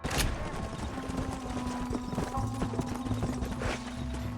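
Horse hooves clip-clop steadily at a trotting pace in Red Dead Redemption on PS3, close and clear over a low outdoor ambience, with a faint neigh-like tone in the background.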